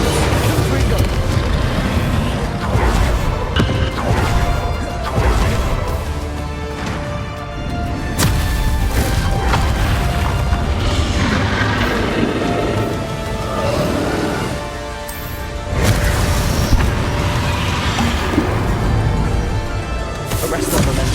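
Explosive spells Confringo and Bombarda go off in the Hogwarts Legacy video game, producing repeated crashing blasts and bursts within a dense, constant wash of game sound, with a voice talking over the action throughout.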